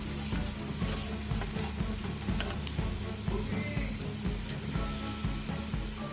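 Crushed ginger fries in a pan of hot oil, a steady crackling sizzle that runs the whole time, moderately quiet, with a low music bed underneath.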